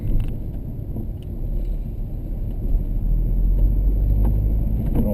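A car drives along a road past a former scrapyard and boatyard at Rowhedge near Colchester, its low engine and road rumble droning steadily from inside the cabin, with no talking.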